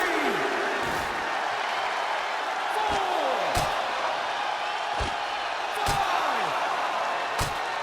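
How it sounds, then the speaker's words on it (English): A manhandle slam lands in a WWE 2K20 wrestling match between Becky Lynch and Charlotte Flair, with sharp impact thuds over a steady arena crowd roar and commentary. "Manhandle slam."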